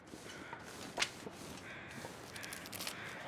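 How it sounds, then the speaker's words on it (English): Crows near a deer carcass in the snowy survival game The Long Dark, giving a few scattered raspy caws at mid distance over quiet ambient wind. "Those are still the crows from the deer carcass up there."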